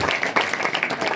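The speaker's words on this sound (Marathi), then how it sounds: "एकदा आमच्या दादासाठी जोरात टाळ्या वाजवा." An audience claps at a kirtan event, a brief dense burst of applause heard up close.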